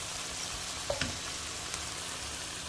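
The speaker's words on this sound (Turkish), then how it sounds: "dakika kadar sarımsaklarımızı da kızarttık." Garlic fries in a pan with a continuous low sizzle and faint crackling, a couple of soft utensil taps breaking the steady hiss.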